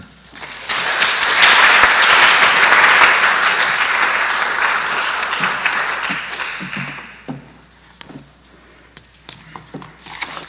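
An audience applauds steadily for several seconds in a museum lecture hall, the clapping loud and dense, then thins into scattered claps and a few knocks and taps as it dies away.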